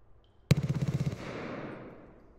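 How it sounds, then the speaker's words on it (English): Automatic gunfire in Escape from Tarkov, on the Reserve map: one sharp, loud burst of rapid shots lasting about half a second, then a long echoing tail that fades slowly. "Is that him shooting at you?"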